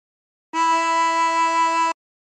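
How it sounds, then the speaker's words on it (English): One steady harmonica note blown into hole 5 rings out clean and close for about a second and a half, with a slight wavering pulse, alone in silence. "And blow into 5."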